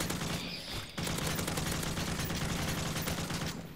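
Video game gunfire rattles out in a dense, continuous automatic burst that nearly fills the clip, loud and close with a brief break near the start, and no speech.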